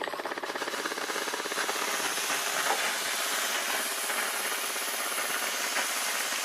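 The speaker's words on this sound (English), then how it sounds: "So I have attached this nozzle to just show you the amount of steam that is coming through" A Vax S84-W7-P 1600W steam mop fitted with a nozzle releases a steady, loud rush of hissing steam that continues alone without interruption.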